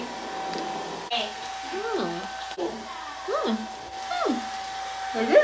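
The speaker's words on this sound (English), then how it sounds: "Blow drying brushes, Sally." A blow-drying brush hair dryer runs with a steady airy whir close by, while someone talks over it in short phrases throughout.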